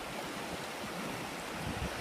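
Water flowing in Reedy Creek near Beechworth, running fairly high over bedrock with small eddies; a steady, broadband rushing wash close by, with no voices.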